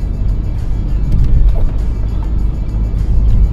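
A Mercedes C200 diesel car accelerating in fourth gear, heard from inside as a steady, loud low-frequency engine drone and road rumble that swells slightly midway, with no talking.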